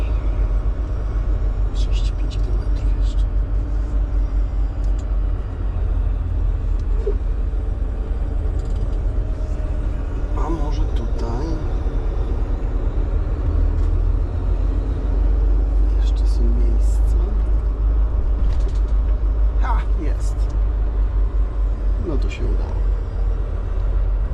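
A car drives on and on, with a loud, steady low engine and road rumble filling the clip and a few faint knocks and clicks inside the cabin. No voices rise above it.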